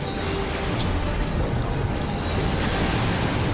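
Crashing waves effect in Final Fantasy XIV, a dense, steady roar of surf and rushing water filling the whole moment with no voices.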